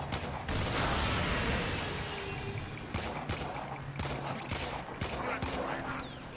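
Weapon fire in Warframe crackles in a dense burst of shots with mechanical clatter, loud and close, followed by a few separate sharp cracks spaced apart.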